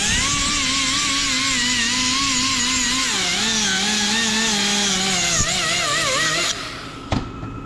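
Power sander with coarse 36-grit abrasive working over an old workbench or table, a loud steady whine that holds for most of the stretch with shifting pitch, then cuts off near the end.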